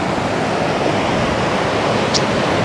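Sea waves wash steadily along a beach as a loud, continuous broadband roar of surf, with no distinct individual breakers and no voices over it.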